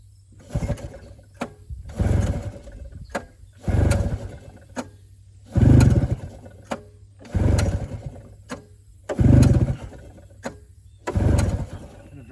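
An old snowmobile engine is pull-started again and again, each rip a loud burst of turning-over sound lasting about a second, about seven pulls in a steady rhythm separated by short pauses, and the engine never catches.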